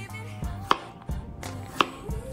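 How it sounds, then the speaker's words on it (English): A knife thinly slicing peeled potatoes on a cutting board, several crisp, close chopping taps at an uneven rhythm, heard alone in a quiet kitchen. "peel and thinly slice your potatoes"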